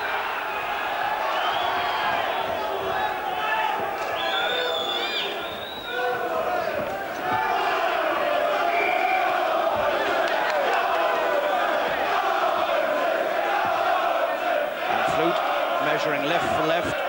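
A large boxing arena crowd sings loudly and steadily throughout, a dense wall of voices with chanting and cheers rising at times.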